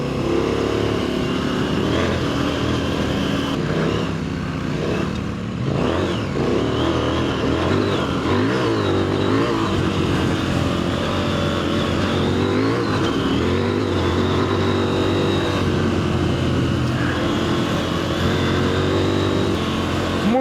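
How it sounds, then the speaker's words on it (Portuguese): Heavy adventure motorcycle ridden on a trail stage in Portugal, its engine droning and revving steadily and close throughout, rising and falling with throttle, with wind noise and no talk. "A moto está pesada para caraças."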